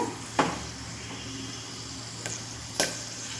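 Whole spices frying in hot oil in a pan give a soft, continuous sizzle, broken by three sharp scraping clicks of a spoon against the pan.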